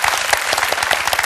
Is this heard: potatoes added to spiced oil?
no